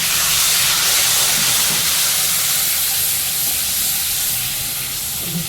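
A loud, continuous hiss of a sip of water sizzling in hot oil with frying spices fills the whole stretch, steady and close, fading only slightly toward the end.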